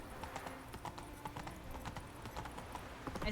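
A horse's hooves clip-clop in a rapid galloping rhythm in the video game Witcher 3, steady and moderately close, with faint game ambience and no talk.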